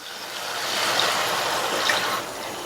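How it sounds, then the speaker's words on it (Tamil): Water pours steadily into cooking mushroom masala in a soft continuous splash for a couple of seconds, about a quarter cup, then eases off, with no talking. "அடுத்து இது கூட தண்ணி சேர்த்துக்கலாம்."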